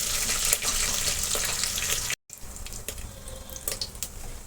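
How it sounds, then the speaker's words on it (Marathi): Mutton pieces fry in oil for a Kolhapuri-style mutton rassa, searing until the fat renders out, giving a steady close sizzling hiss with a brief break partway through. "मी आता हे तेल सुटूपर्यंत भाजून घेत आहे."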